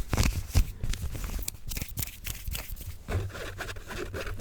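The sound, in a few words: fingers scratching fabric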